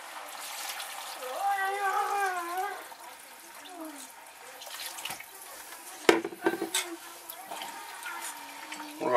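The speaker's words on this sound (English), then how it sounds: "And I'm going to add 6 cups of water." Water runs and splashes into a container for several seconds, then a few louder clanks and sloshes near the end; a voice speaks over part of it.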